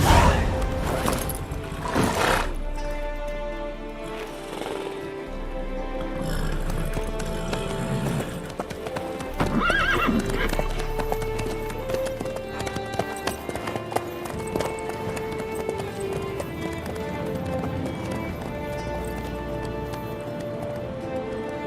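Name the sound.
horse galloping, from video game The Witcher 3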